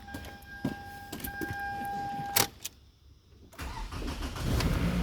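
After a starter fix, a car with a previously faulty starter cranks briefly with clicks and a chime, then its engine catches on the first try and settles into a low, steady idle.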